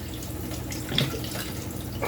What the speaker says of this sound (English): And add some more water. Make sure it's all covered.